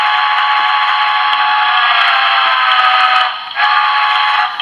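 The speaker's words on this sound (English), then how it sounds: "that was the original whistle." A DCC-equipped model train engine sounds its original whistle setting, a steady, loud, shrill tone held for nearly five seconds with a brief dip near the end, alone without talk.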